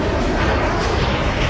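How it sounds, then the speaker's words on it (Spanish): Loud, continuous roar of a MiG and another fighter jet climbing, a dense broadband rush with no breaks. "Los dos aviones tratan de conseguir altura."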